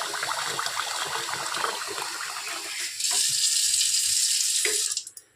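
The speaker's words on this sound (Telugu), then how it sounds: "మళ్ళీ మంచి నీళ్ళు వాటర్ పోసేసి పెట్టుకుంటాం" Water is poured over soaking rice rava for idli, a rushing, splashing flow that swells louder partway through and then cuts off abruptly, close by with no speech.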